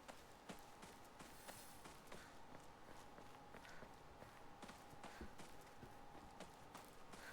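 Footsteps in the horror video game Silent Hill f tap at a steady, even pace, soft and fairly quiet over a faint low background hum.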